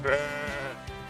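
A sheep bleats once, close and clear, in one short wavering call at Mon Kae in Khao Kho.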